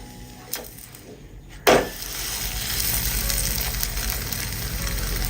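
Porotta flatbread cooking on a hot pan over low to medium flame. A couple of sharp knocks are followed by a louder sizzle that rises and then holds steady close by.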